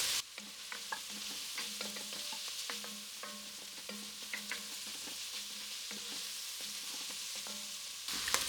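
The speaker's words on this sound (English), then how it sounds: "Just cook this until we can start smelling the aroma of the garlic." Diced garlic sizzles and crackles in a pot, a soft steady frying hiss punctuated by repeated light scrapes and clinks of a stirring utensil.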